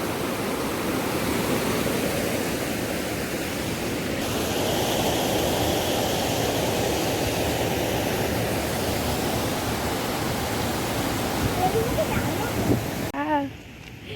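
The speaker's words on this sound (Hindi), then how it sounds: "देख केते पानी जाउची।" Water rushes steadily beside a hill road on the way to a village temple, a dense, broad, continuous roar that stays close and even throughout, with a brief shift near the end.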